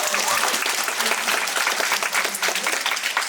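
An audience at a community meeting about the Benton at Lawrence site breaks into clapping, a dense, even burst of many hands carrying on for several seconds at steady loudness.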